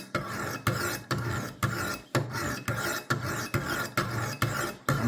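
A butter knife is drawn across a 200 grit stone on a Wicked Edge WE60 sharpener, making steady rhythmic rasping strokes about twice per second, close and alone.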